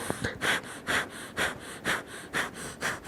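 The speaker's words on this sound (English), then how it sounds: "You guys just keep going with the breath of fire." Rapid rhythmic breath of fire: sharp forceful exhales through the nose, about three per second, close and steady with no talking.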